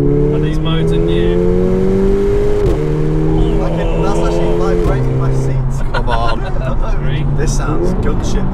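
Hot hatchback engine and exhaust revving hard toward the limit, loud and close with rising and falling pitch sweeps between gear changes, while people talk over it.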